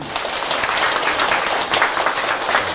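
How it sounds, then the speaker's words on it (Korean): Sustained audience applause from a gathered crowd, dense and steady clapping filling the hall for a few seconds at close range with no talking over it. "박수!"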